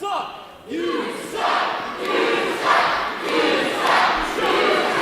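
Wrestling fans at an Action Andretti vs Brandon Scott match cheer and chant in loud, rhythmic waves, the crowd rising and falling in repeated surges throughout.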